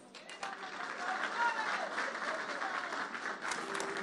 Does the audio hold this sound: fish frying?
no